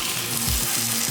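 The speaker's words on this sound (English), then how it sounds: "what we're doing is just giving it a quick sear" Pork belly searing skin side down in a hot pan, giving a steady, loud close sizzle and crackle of frying fat throughout, with a few low clunks of the meat being pressed or moved.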